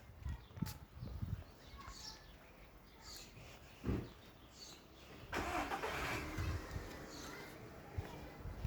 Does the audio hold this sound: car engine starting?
yes